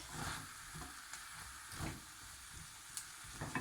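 A spoon stirs vegetables, yogurt and biryani masala frying in a pan for vegan Hyderabadi biryani, making a steady, faint sizzle broken by periodic scraping strokes.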